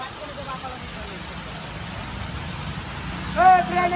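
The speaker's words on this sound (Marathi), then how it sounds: "घाण जोरात पाऊस चालू झालाय." Heavy rain falls as a steady broadband roar throughout, fairly loud and close, with a voice speaking briefly near the end.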